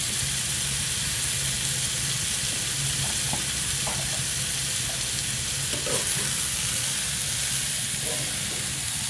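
Shredded potatoes fry in a pan with a steady, fairly loud sizzle and hiss throughout, while occasional soft scraping and clinks of a stirring utensil rise above it.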